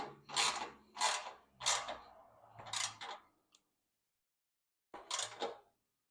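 A socket ratchet tightens a bolt on a Rough Country LED bull bar fitted to a Chevrolet Silverado. Four short bursts of close ratcheting come in quick succession, then a pause and one final burst, with no talking.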